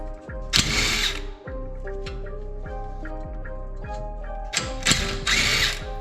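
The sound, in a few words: ratchet removing nuts from brake brackets on Nissan 350z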